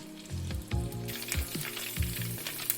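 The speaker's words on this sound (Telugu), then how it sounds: "ఇప్పుడు కరివేపాకు వేస్తున్నాను" Curry leaves dropped into hot oil for a Godavari fish curry, bursting into crackling sizzles with a few loud pops and spatters over a steady frying hiss, close and moderately loud.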